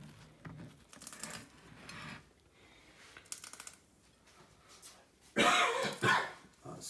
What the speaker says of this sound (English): Sorry about that, I'll just have to cough away.